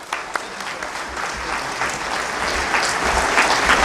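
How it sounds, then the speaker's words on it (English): Audience applause at a forum welcoming a speaker, author and talk show host, a full crowd clapping that swells slightly louder toward the end, with faint voices mixed in. "a nice Bay Area warm of applause to speaker, author, and talk show host, Mr. Mike Gallagher."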